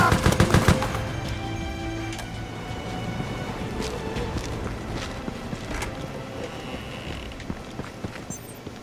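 A Gatling gun fires in the video game Resident Evil: Operation Raccoon City, a rapid loud volley at the start that fades into a dense, rumbling spray of shots and clatter.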